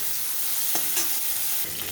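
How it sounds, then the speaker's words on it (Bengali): Shrimp lightly fried in oil in a wok, with a loud, continuous hiss of sizzling and a few faint stirring knocks. "চিংড়ি মাছগুলোকে হালকাভাবে ভেজে নেব, খুব বেশি ভাজবো না।"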